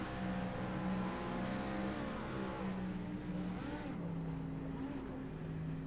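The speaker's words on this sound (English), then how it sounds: "Bit of donuts to be done on the starting grid" GT3 race cars spin donuts on the starting grid at the Red Bull Ring in a racing game, their engines droning steadily with wavering, rising and falling revs and tyre scrub, loud and continuous throughout.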